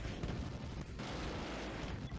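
Bombers dropping bombs in a Red Alert mod, a real-time strategy video game, heard as a continuous rumbling barrage of booming explosions that stays loud and steady throughout.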